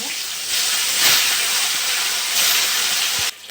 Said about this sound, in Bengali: মাছগুলো আমি একইভাবে ভেজে নেবো।